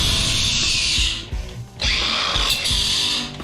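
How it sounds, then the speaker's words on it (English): A cordless grinder cuts into thick scrap brass skinned over aluminum, a loud, bright whine that dips briefly mid-clip as the disc lifts off the metal, then bites back in and keeps grinding. "And just take your grinder."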